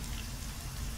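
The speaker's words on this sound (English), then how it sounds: "So you'll notice we have a nice rainy scene here" Steady rain sound effect in a Sky Studio rainy scene, a dense even hiss of falling drops with no break, close and constant.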